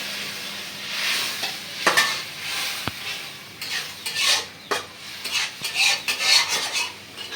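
Fish roe cooks in oil with a little water added, giving a steady close-up sizzle and bubbling broken by scraping spatula strokes and light metal clinks against the pan.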